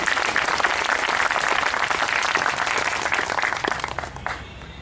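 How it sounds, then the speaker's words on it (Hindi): An audience at a spiritual discourse claps loudly in a dense, sustained burst, then the applause tapers off in the final second. "आप चाहो तो जोर से एक अलग से ताली बजाओ।"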